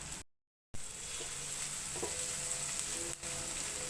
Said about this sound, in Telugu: 2 to 3 స్పూన్స్ ఆయిల్ యాడ్ చేసుకొని ఉల్లిపాయలు, పచ్చిమిర్చి, పసుపు, సాల్ట్, క్యాప్సికమ్, క్యారెట్, అల్లం వెల్లుల్లి ముక్కలు